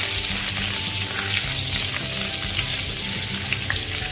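Ginger fries in a pan for a beef stir fry, giving a loud, continuous dense sizzle that holds steady throughout without pause, close up with faint clinks scattered over it and no voices.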